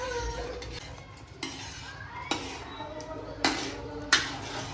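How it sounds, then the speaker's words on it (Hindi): A pot of homemade tomato ketchup is stirred over a medium gas flame, with a soft bubbling sizzle beneath and a few sharp scrapes and clinks as the spoon knocks the pot roughly every second. "इसलिए मीडियम गैस रख के ऐसा चलाते ही रहने का।"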